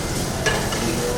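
Cabbage and green peas being stirred in a frying pan with turmeric and chili powder, giving a soft steady scrape and faint sizzle with one brief sharper clink near the middle.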